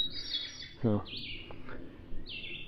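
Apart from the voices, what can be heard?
birds singing outdoors at campground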